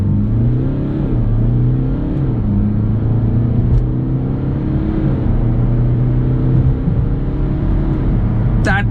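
A BMW 320d sedan's diesel engine revs and pulls hard from a launch, a steady loud drone rising and dropping with gear changes, close and continuous throughout.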